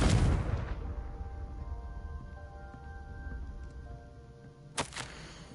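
A Confringo spell in Hogwarts Legacy detonates with a loud opening boom that decays into a droning rumble, followed near the end by a second, sharper burst.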